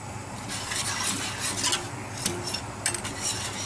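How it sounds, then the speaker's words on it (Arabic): Béchamel sauce being stirred in a pan right after milk is poured in, a steady close scraping and rubbing of a spoon against the pan bottom with soft swishing, continuous and without talk. "بقوم نازله باللبن مره واحده كده، بتنيني اقلبه على طول كده لحد ما يبتدي يتقل معايا"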